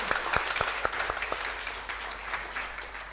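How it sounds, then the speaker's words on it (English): A church congregation applauds a member's 40th birthday during a Sunday service, starting with a few sharp separate claps that quickly build into steady, moderately loud group clapping. "everyone wants to give a round of applause"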